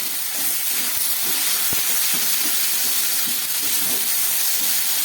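Garlic with cumin and chilli powder frying in a pan for a spicy dried fish curry, a constant dense hiss close by, with a few faint low knocks.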